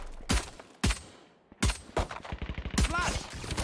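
Gunfire in the Valorant shooter game: four sharp, loud shots spaced about a second apart, the last one running straight into a burst of rapid fire, with voices talking between them.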